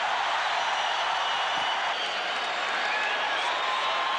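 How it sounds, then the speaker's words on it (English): A boxing arena crowd roars after a knockout that ends the fight, a steady, loud, hissing wash of cheering that fills the whole stretch with no single voice standing out. "Listen to this crowd."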